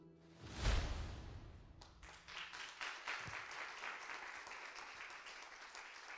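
Audience clapping at a book launch, opening with a loud thump before scattered then steady applause, moderately faint and sustained to the end.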